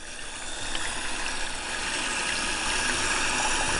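Running tap water rinses crushed garlic off skin in a steady, close, continuous splash and hiss that swells slightly louder toward the end.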